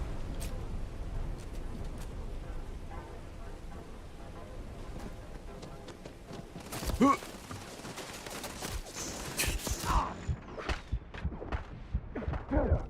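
Gunfire in the Starfield video game, a cluster of sharp shots bursting out midway and then scattered repeated reports, with a player talking over the action.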